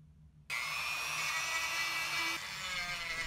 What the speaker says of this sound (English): All of the plastic I'm shaving off now, I'm saving it